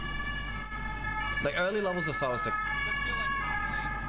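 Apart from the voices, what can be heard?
ambulance siren effect during a League of Legends match broadcast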